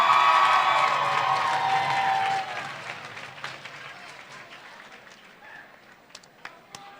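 A crowd at a sophomore academic awards ceremony applauds a student honored as a scholar, loud clapping and some cheering at first that fades after a couple of seconds into scattered, sparser claps and hall noise.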